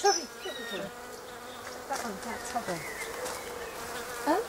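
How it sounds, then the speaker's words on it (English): A striped bumblebee buzzes in a garden in June, a close, wavering drone that rises and falls in pitch as it moves about, with quiet outdoor background and no talk. "that's one of those stripy bees"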